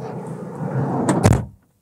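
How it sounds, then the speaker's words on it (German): The sliding side door of a VW Bulli camper van rolls along its track for about a second, then shuts with a sharp, loud double clack, close by and alone. "einem Campingbus habt ihr ja genau wie im Kastenwagen so eine Schiebetüre"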